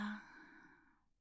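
One slow, soft exhaled breath, taken during a guided Spanish-language meditation, begins with a brief airy, voiced sigh, then thins and fades out over about a second, quiet and close.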